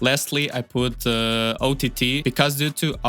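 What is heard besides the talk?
None of the usual background noises is heard.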